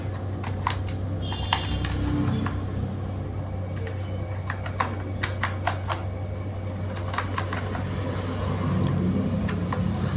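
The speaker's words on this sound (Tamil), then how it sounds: "இப்போ நான் ஆதார் கார்டில் இருக்கிற மாதிரி டைப் பண்ணிக்கிறேன்." A worker's name is typed as it appears on an Aadhaar card on a computer keyboard, giving quick irregular clicks in short runs over a constant low hum with faint traffic noise behind.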